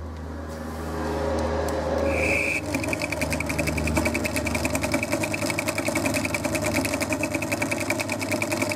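A worn-out domestic central heating pump with failing bearings runs steadily, a continuous mechanical whirr with a fast rhythmic rattle and a high whine joining after a couple of seconds, close and loud throughout.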